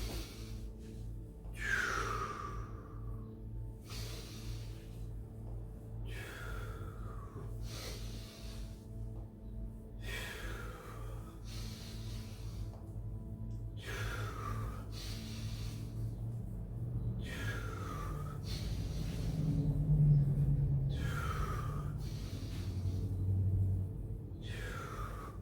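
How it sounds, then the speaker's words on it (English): Slow, steady breaths in and out during an energy-work exercise, each a soft airy rush repeating every few seconds over a low constant background hum. "So we'll take a breath out here and breathe in here."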